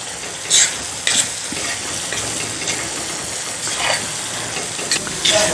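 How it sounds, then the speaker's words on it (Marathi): Onion, tomato and ginger-garlic paste sauté in a pan for an egg tawa masala with a continuous close sizzle, broken by several brief scraping stirs of a spatula, loud and with no voices. "लसूण आल्याची पेस्ट सुद्धा एक मिनिटभर परत आपल्याला याच्याबरोबर परतून घ्यायची आहे"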